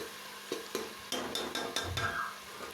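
Masala with tomatoes fries in a pan for pumpkin bhujiya, with a spoon stirring and tapping against the pan in a string of sharp clicks and scrapes over a soft sizzle, close and fairly quiet, no voices.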